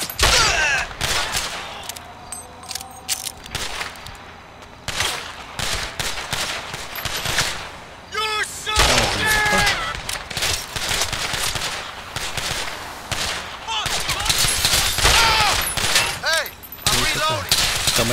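Sustained gunfire from a GTA V shootout, dense bursts of automatic weapons and single shots crackling almost continuously, loud and close, with brief lulls and faint voices underneath.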